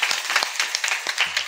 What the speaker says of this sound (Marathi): या ताईसाठी एकदा जोरात टाळ्या वाजवा